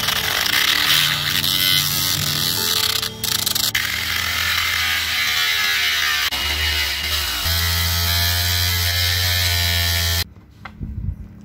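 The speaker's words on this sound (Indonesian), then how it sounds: "saya motongnya menggunakan gerinda saja seperti ini" An angle grinder cuts scrap metal to make a soldering iron tip, giving a loud, continuous whining buzz that shifts in pitch as it bites, then cuts off near the end.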